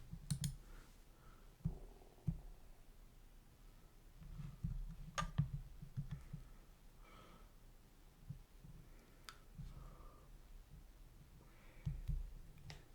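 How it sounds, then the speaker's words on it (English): Typing on a mechanical keyboard, faint scattered key clicks in irregular bursts with pauses, quiet and close against a low room hum. "it's a mechanical keyboard"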